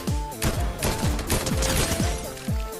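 Rapid bursts of video game gunfire from enemies shooting at an aircraft in the sky, loud repeated volleys with sharp low-end thumps, continuous and close.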